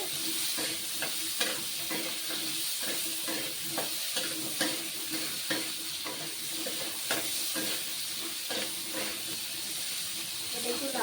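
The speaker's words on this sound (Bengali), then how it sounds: "আমি আলুটাকে একটু লাল লাল করে ভাজবো" Potatoes fry in oil in a pan with a continuous close sizzle and hiss, with frequent short clatters of stirring throughout.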